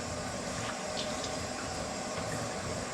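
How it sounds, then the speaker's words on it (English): Cold tap water runs over tie-dyed handkerchiefs in a sink, a close, steady rushing hiss lasting a few seconds with no speech. "run some cold water over them"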